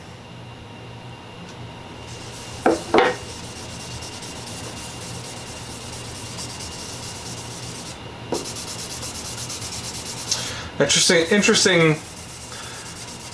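Light sanding over flame maple finished with mahogany leather dye gives a soft, steady rasp, with a few short scrubbing bursts and a louder, rougher stretch of scratching near the end; someone briefly speaks once.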